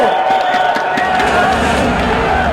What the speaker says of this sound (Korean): 당원 여러분, 큰 박수로 맞아주십시오